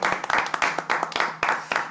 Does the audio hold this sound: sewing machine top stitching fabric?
no